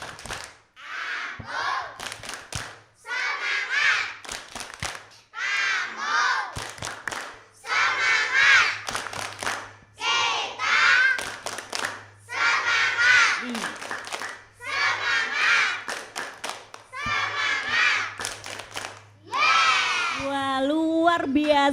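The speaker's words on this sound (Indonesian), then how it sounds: "ini kelihatannya ada tepuk semangat tersendiri dari TK Aisyah" Kindergarten children at a school event perform a rhythmic spirit clap, loud bursts of group clapping and shouted chants repeating in short phrases, with a low steady hum underneath.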